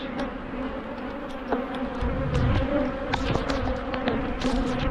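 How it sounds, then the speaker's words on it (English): Angry honeybees from a swarm buzz loudly and continuously close to the microphone, a dense droning hum with individual insects zipping past. "Not happy bees today."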